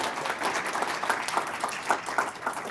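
Audience applause at a university President's Awards ceremony as board guests stand to be recognised, a steady dense patter of many hands clapping at moderate distance, continuous throughout.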